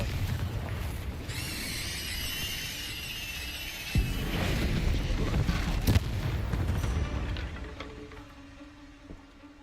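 Confringo fire spell from Hogwarts Legacy, a fiery whoosh building to a booming blast with rumbling crackle after it, then fading out, set among other magical combat sounds.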